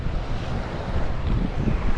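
Ocean waves break at a local beach in a steady, close, roaring wash of surf with gusty wind buffeting the microphone and no voices.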